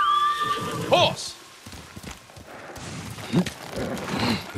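A horse in Ghost of Tsushima whinnies sharply near the start, followed by rustling movement and muffled hoofbeats, with a couple more short snorts or calls later.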